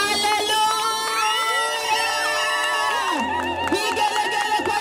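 A crowd at the Korogocho for Jesus crusade cheers and ululates in praise, keeping up a loud, sustained wash of high voices with long trilling tones throughout.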